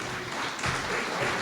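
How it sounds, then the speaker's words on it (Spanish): Short burst of applause from a church congregation during a sermon, a dense wash of clapping that swells slightly partway through and stays at moderate loudness. "Démosle un aplauso al Señor."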